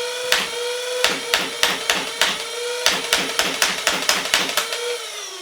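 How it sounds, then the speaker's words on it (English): A Dart Zone Pro MK3 foam dart blaster fires half-length darts in rapid semi-automatic bursts, each shot a sharp snap over a steady motor whir, close and crisp in quick uneven runs. "right now I'm going to try out this blaster for the very first time"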